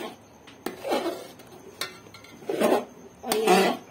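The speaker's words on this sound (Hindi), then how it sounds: "अभी मैं 30 आंच पे भून रही हूँ।" Chana dal roasting in a pan for halwa, heard as repeated bursts of spoon scraping and stirring against the pan with sharp knocks between them, close and fairly loud, no talking.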